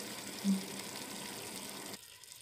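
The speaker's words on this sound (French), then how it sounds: "C'est à ce moment-là que je vais mettre de l'eau." Water is poured into a pot of onion sauce for Algerian mtouem, giving a steady, soft gushing stream close by that cuts off near the end, with no speech.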